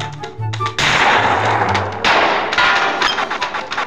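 Gunshots in a video game crack out as loud, sharp bursts in quick clusters, close up, with short tonal game sounds in between.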